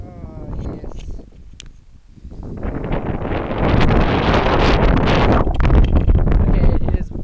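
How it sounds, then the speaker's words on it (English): Strong wind blows outdoors during bass fishing in South Africa, buffeting the microphone with loud, roaring gusts. They ease briefly, then build into a sustained heavy rush for the rest of the stretch. "it is very windy right now"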